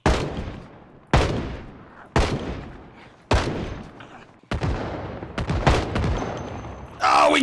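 Shotgun blasts in an Escape From Tarkov-inspired survival mod, five heavy booming shots spaced about a second apart, each with a decaying tail, followed by a rapid cluster of further gunfire and a brief bright rustle at the end.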